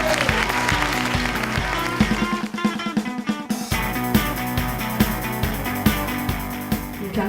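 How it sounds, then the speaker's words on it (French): An audience at an award ceremony applauds Association Turbulence, a festival prize winner, with sustained loud clapping under background music, a short lull midway before the applause resumes. "On peut l'applaudir 2 fois, je pense."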